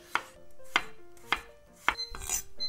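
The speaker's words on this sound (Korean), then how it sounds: "우선 감자 2개를요 얇게 썰겠습니다" A knife slices two potatoes into thin pieces, about 0.3 cm thick, on a cutting board. Four crisp, evenly spaced chops land close up with no talking, followed by a short scraping clatter.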